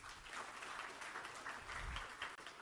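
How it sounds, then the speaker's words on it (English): Audience applause at a talk fills the room as a steady, dense wash of clapping, faint and distant, lasting a few seconds without a break. "applause to all of you"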